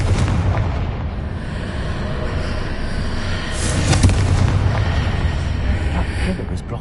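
Confringo spell blasts from the Hogwarts Legacy video game, a muffled explosive boom and burst near the middle over a continuous noisy rumble of game sound.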